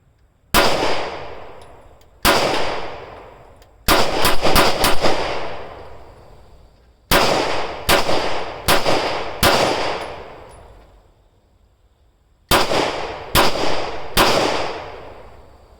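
Smith & Wesson M&P 10mm pistol firing 200-grain aluminum-cased ammunition outdoors: loud, sharp shots with long ringing decay, in uneven clusters of single and rapid successive rounds separated by brief pauses.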